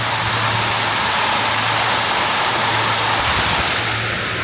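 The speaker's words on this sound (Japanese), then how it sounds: "まずはこの国際会議場の大噴水。 もう地面濡れてますけれども、水しぶきがきますね。" A large fountain at the International Conference Center in Hiroshima's Peace Memorial Park splashes in a steady, loud broadband rush of falling water close by, with a faint low hum beneath and no talking.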